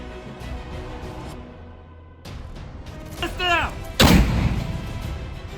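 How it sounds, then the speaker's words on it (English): Artillery rounds strike a building used as a drone control hub in a combat zone near Zaporizhzhia or Sumy, arriving as a few heavy booming impacts with a sharp final blast and rumbling aftermath, loud and close against a noisy background. "5 precision artillery strikes were directed at the target"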